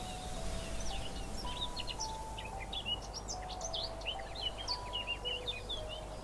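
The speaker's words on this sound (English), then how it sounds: "It adds bird sounds to forests, or basically trees." Birdsong from a Minecraft ambient-sounds mod fills a game forest, with many overlapping chirps and trills, faint and steady over a soft background hiss.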